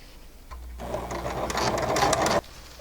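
A sewing machine runs in a short, steady burst of about two seconds, stitching a fabric tube for a reflective wrist band, close and fairly loud with no talking.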